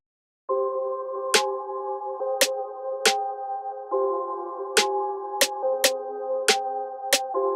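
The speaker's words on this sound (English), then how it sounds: "So here's what that snare sounds like." A pitched-down snare drum sample in a beat hits sharply and repeatedly at an uneven rhythm over a steady sustained synth chord, loud and dry with no speech.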